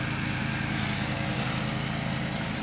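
Steady, continuous drone of a riding lawn mower cutting grass, loud and close with an even low engine hum throughout and no voices.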